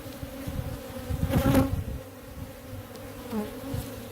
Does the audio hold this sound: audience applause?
no